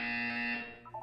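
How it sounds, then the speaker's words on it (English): Buzzer from the video game Portal 2: a steady electronic tone rings loud and unbroken for about half a second, then fades as brief higher beeps appear near the end. "You will hear a buzzer."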